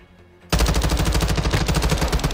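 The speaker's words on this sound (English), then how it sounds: "I was just shooting, hoping to get him" Sudden loud automatic gunfire in a Modern Warfare 2 beta match, a rapid sustained burst of evenly spaced shots erupting after a half-second of quiet and running to the end.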